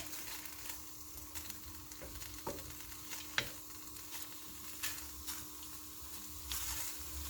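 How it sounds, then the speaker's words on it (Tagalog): Meat cooking in a pan for pakbet, heard as a soft steady sizzle close by with occasional sharp clinks and scrapes of stirring, fairly quiet and without talk. "We're gonna cook the meat."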